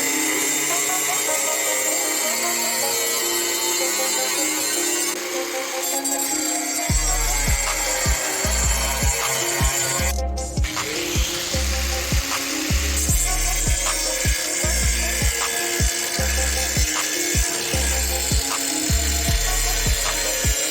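A power tool cuts into a rear diffuser for a Toyota MR2 Spyder, starting with a whir and then settling into a long, harsh grinding rasp broken by short pauses and repeated bursts.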